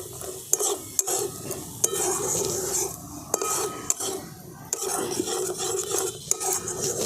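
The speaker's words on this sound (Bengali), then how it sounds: "মটরশুঁটিগুলো দিয়েও খুব ভালো করে কষিয়ে নিয়েছি" Green peas sautéing in an oily spice masala sizzle continuously in a pan, with sharp spatula knocks and scrapes against the metal at uneven intervals, close and fairly loud.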